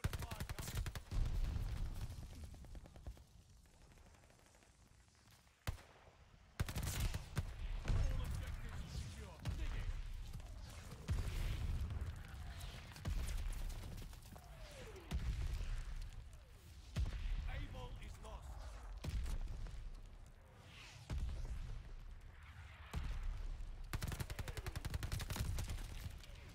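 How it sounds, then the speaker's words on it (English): Bursts of gunfire and heavy mortar-style blasts crack through a video game match, with sharp repeated shots spread across the stretch and a player talking intermittently over the action. "Friendly mortar fire coming."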